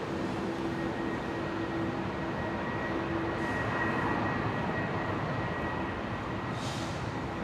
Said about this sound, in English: Awesome sound there from the Qantas 330 taxiing on by.